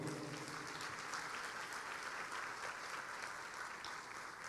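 Steady applause from a crowd, dense clapping filling the whole stretch at an even level with no pauses.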